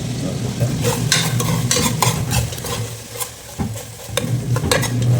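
Whole cinnamon, cloves and cardamom sizzle in hot mustard oil and ghee for a potato mutton biryani, a close, steady frying hiss broken by repeated metal spoon clinks and scrapes against the pot.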